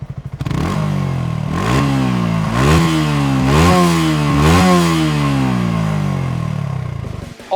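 A Yamaha R15 V3 sport motorcycle engine revs repeatedly, rising and falling in pitch several times, loud and close, with a rough, raspy exhaust note.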